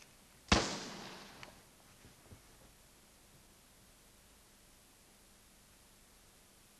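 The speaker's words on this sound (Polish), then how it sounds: "Dla wzmocnienia efektu NBC dodało odgłos wystrzału." A single sharp gunshot sound effect, added to TV news footage of the Vietnam War era, cracks loudly near the start, its echo decaying into quiet hiss, followed by faint small knocks.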